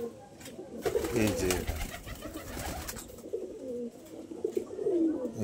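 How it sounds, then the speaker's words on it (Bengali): A young pigeon, offspring of a local pigeon crossed with another breed, coos in soft repeated rolls close by, partly under a person's speech. "এটা হচ্ছে আমার মেয়ের ফেভারিট পায়রা"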